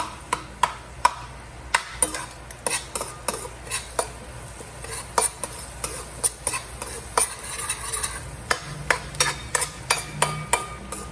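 Garlic frying in a pan with a little pepper, stirred with a utensil that scrapes and taps the pan in steady, frequent strokes over a soft continuous sizzle, close and moderately loud, with no talking.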